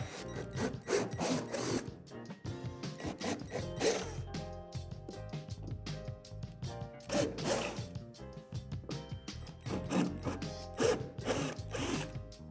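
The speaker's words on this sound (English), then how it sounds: "Then drill out the 4 holes at the bottom of the slide." Drilling holes into a plastic swing-set slide with a 3/8 bit, repeated short bursts of grinding, rasping sound, uneven and close, with brief pauses between pushes.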